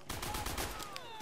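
A rapid burst of automatic gunfire from the World at War video game rattles in quick, evenly spaced shots that trail off after about a second.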